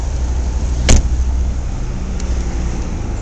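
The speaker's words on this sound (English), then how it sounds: "The engine's actually running right now, has been throughout this video. It's a quiet motor" A 2004 Saab 9-3 with a manual gearbox idles quietly with a low, steady engine hum, broken by one brief click partway through.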